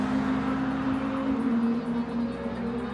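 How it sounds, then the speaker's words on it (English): Toyota GT86 sports car engine humming steadily from the cabin while driving, a low, even drone at moderate level with no talk. "the engine's got a great sound to it as well"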